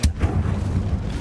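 A single Incendio fire spell cast in the wizarding game Hogwarts Legacy, a sharp whooshing burst followed by a low rumbling rush of flame, close and loud with no talk.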